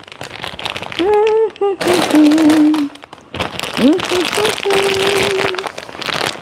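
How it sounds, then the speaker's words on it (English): A cheese package is torn open and its plastic crinkles loudly and close, in crackly rustling bursts in a home kitchen while someone talks over it. "let me open my cheese."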